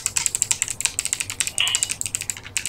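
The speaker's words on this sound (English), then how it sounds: "Spamming your keyboard." Computer keyboard keys spammed rapidly, a dense run of sharp, close clicks in quick uneven rhythm with no pauses, alone without talk.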